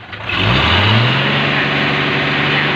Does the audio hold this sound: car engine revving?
yes